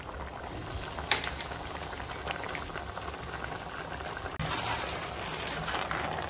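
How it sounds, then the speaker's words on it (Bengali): Washed, chopped spinach cooking in a pan for a vegetarian niramish ghonto, giving a steady moderate sizzle and bubbling with a couple of brief clicks, heard alone. "এখন দিয়ে দেব এই যে কেটে পরিষ্কার করে ধুয়ে রাখা পালং শাক।"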